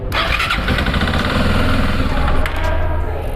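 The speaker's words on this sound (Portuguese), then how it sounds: "vocês vão ouvir o barulho do motor, porque agora o sistema está funcionando" A motorcycle starter motor cranks continuously during a starting system test, a loud, dense, close mechanical whir that holds steady for about three seconds before easing off.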